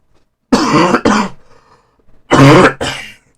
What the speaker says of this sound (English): I'm coughing up a storm pretty much